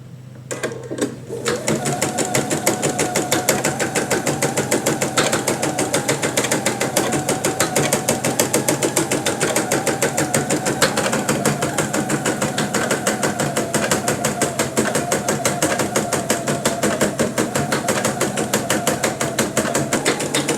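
Embroidery machine stitching a freestanding-lace Christmas ornament in red thread, a loud, relentless rapid mechanical chatter with a steady clacking rhythm that starts after a brief pause and runs continuously up close.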